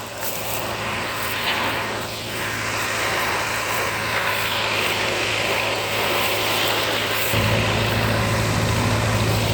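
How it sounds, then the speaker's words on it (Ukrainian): A tractor drives past in a barley field, its steady low engine drone running throughout and swelling louder and closer near the end, with no talking. "Зараз трактор проїде."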